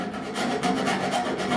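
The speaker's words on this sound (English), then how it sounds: "sand all the way around these areas" Body filler being sanded by hand on a 1966 Buick Wildcat GS body, a close, continuous scratchy rasp with even back-and-forth strokes.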